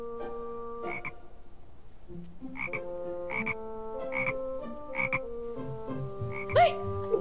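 Frogs croak in a short repeated series of throaty calls, fairly close, over sustained tonal music with no voices.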